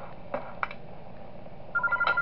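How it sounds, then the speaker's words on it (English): Quiet in-game telephone in the horror fan game Those Nights At Wario's 3, with faint short tones and a steady repeated ring pulsing near the end over low background hum. "I gotta call the phone on Bowser again."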